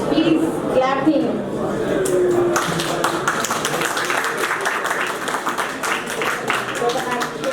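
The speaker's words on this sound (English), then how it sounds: "Please clap him." An audience at a community birthday and Christmas party claps for a child on stage, brisk dense applause that starts after a moment of talk and continues steadily to the end.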